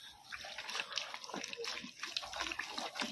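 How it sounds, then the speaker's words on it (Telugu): Water poured into chicken while cooking, a continuous liquid splashing and sloshing that rises and falls over a few seconds, close and moderately loud. "అందుకు కొంచెం వాటర్ వేస్తున్నాను."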